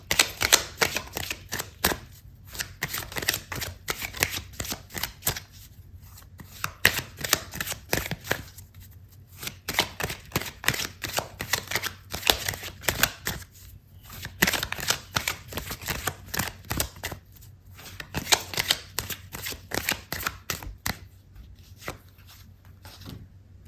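Tarot cards being shuffled by hand in a quiet room, a steady stream of crisp riffling flicks broken by short pauses between bursts, close and moderately loud with no talking.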